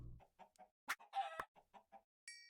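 Chickens in a modded Minecraft game cluck in a series of short, separate game sound effects, fairly close and moderately loud, with a few sharper squawks and a higher tone near the end, and no talking.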